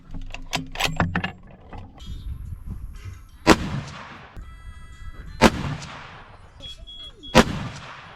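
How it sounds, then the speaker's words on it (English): A rifle loaded with Hornady Outfitter ammunition and an aftermarket magazine fires three loud, booming shots about two seconds apart, after a burst of metallic clacks from handling the action. "we are shooting that outfitter, the Hornady outfitter right now"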